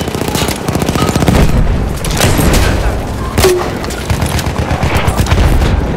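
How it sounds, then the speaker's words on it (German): Battlefield 1 combat on the Devil's Anvil operation: dense machine-gun fire and rapid gunshots with deep booms, a grenade blast among them, loud and continuous, with voices shouting over the battle. "Ich werf eine Granate!"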